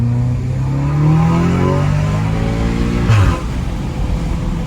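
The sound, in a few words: Audi S3 stage 2 accelerating hard to redline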